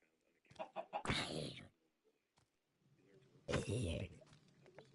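Chickens clucking in a chicken pen in two short, rough bursts of squawking separated by a quiet gap, fairly faint and close.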